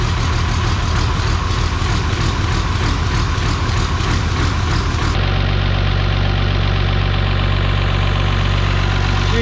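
A tractor engine started cold without preheat, running loud and close with a rough, knocking idle that shifts to a steadier, deeper throb partway through.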